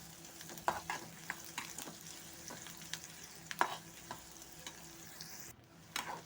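Onions frying in oil with curry leaves and garlic in a pan, stirred with repeated light scrapes and taps over a quiet, steady sizzle, close up and without speech.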